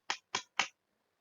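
Children in a primary school Quran lesson clap along to the Al-Fatihah chant: three sharp, evenly spaced claps close by, followed by near silence.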